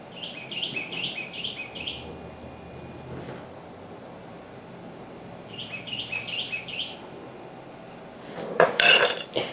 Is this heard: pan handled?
yes